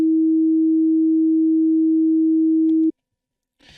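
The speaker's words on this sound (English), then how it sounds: "because the frequency is lower, the tone is lower" A smooth, low-pitched sine wave tone generated in Unreal Engine 5 MetaSounds holds steadily, then cuts off abruptly, leaving brief silence before faint clicks and noise.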